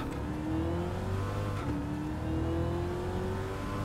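A race car engine in Gran Turismo 7 drones steadily at high revs, its pitch climbing in long sweeps as it accelerates, with a smooth continuous whine and no talk over it.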